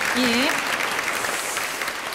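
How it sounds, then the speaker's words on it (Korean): A seated audience at a forum on the March 1st Movement and women applauds a student's presentation: even, sustained clapping from many hands, with a brief voice heard over it at the start. "박수 쳐주시기 바라겠습니다."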